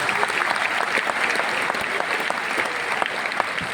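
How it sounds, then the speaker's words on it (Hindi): Loud, dense applause for new achievers at a Vestige award function, many hands clapping steadily from a large crowd with a sharp, continuous texture throughout. "सो जितने हमारे नए अचीवर्स हैं उनके लिए जोरदार तालियां होनी चाहिए।"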